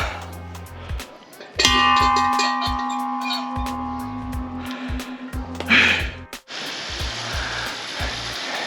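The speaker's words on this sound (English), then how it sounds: "Now, we ring the bell." A bell at the center of a large outdoor labyrinth in Ataco rings out, a sustained metallic tone that hangs for several seconds before cutting off, with wind noise and rumble around it and a short voice near the end.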